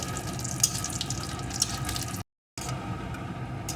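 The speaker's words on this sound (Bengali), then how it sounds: "এখন আমি এর ভিতরে কয়েকটা বিউলির ডালের বড়ি দিয়ে ভালো করে ভেজে নেব বড়িগুলোকে লাল লাল করে" Urad dal bori, small lentil dumplings, frying in hot oil for a Bengali helencha greens recipe: a steady close-up sizzle and crackle that runs continuously, broken by a brief silent gap before resuming.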